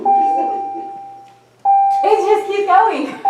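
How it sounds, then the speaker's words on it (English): An old school bell in a first-grade classroom gives a long, steady electronic tone that fades over about a second and a half, then sounds again as people start talking over it. "that's a long bell."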